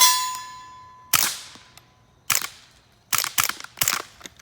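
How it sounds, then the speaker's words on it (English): Suppressed .22 fired through a Silencerco Sparrow silencer at a range, heard as several sharp, clipped cracks with quick metallic decay, spaced irregularly and close by, with no voices. "I'm just going to shoot this single shot just so we can give the silencer"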